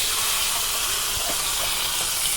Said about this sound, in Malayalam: അപ്പോൾ വറുത്തത് നമുക്ക് ഇതിനകത്തോട്ട് ഒഴിക്കാം